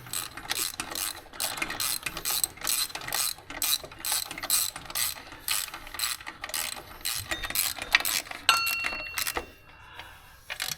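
Ratchet turning bolts while reassembling the top end of a V6 engine during an L67 top swap: repeated bursts of rapid mechanical clicking with brief pauses between strokes, close and fairly clear, with a few metallic clinks near the end.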